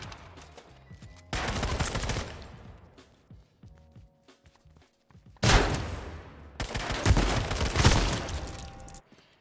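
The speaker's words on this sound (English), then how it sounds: "Brain dead shotgun fights" Bursts of shotgun gunfire in the video game H1Z1, loud and close, arriving in several dense clusters separated by quieter stretches of faint clicks and movement, with no talking.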